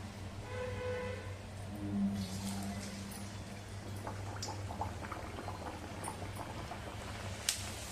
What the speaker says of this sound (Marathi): गॅस आपण मध्यम करूया आणि घारगे तळण्यासाठी तेलामध्ये घालूया